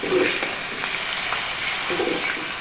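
Food stirred in a pan of hot oil, a loud, close, continuous frying hiss with soft scraping bursts from the spoon.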